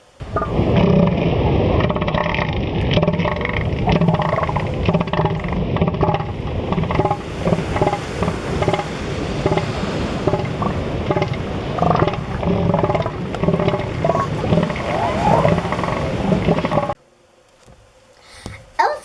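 An elephant seal bellows in deep, rumbling, pulsing calls, loud and close, repeating steadily for about seventeen seconds before cutting off abruptly.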